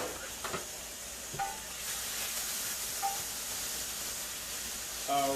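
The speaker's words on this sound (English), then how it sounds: "So I'm stirring up my asparagus" Asparagus stirred in a hot pan gives a continuous steamy hiss and sizzle, broken by a few sharp utensil clinks against the pan.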